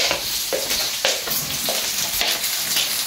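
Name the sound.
fish being added to boiling fish curry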